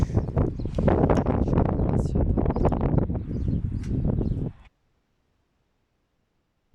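Gusty wind roars and buffets the microphone outdoors in Istanbul with some rustling, then cuts off abruptly into near silence.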